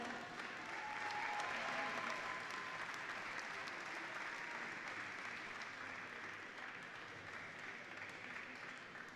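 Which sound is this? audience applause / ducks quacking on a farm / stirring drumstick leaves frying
audience applause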